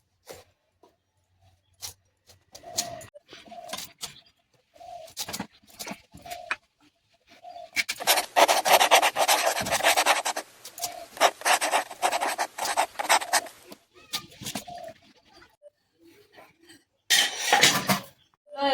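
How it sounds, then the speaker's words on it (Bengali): A knife works through a mango for kasundi in a home kitchen, with repeated short rasping scrapes and cuts, some spaced and some in dense bursts, close and fairly loud with no talking. "আমটা কেটে নেব।"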